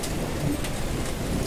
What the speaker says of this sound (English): It was rain and the grass was wet.